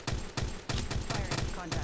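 Rapid gunfire in the mobile shooter game Apex Legends Mobile, a series of dense bursts of shots arriving in quick repeated volleys, loud and close, with no voices over them.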